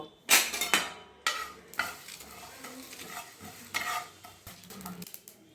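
Black mustard seeds and dried chillies fry in a pan for a kiwi chutney. Sizzling crackle comes in several short bursts, broken by scraping stir strokes against the pan, close and moderately loud.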